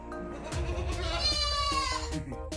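Goats bleating at a farmstay in Paal Village, Tenom: several calls overlap in a steady chorus of loud, wavering bleats close by, with no talk.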